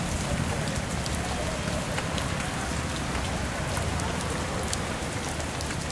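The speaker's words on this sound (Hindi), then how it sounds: "बारिश हो रहा है" Steady heavy rain pours down, a dense continuous hiss with drops pattering on surfaces close by.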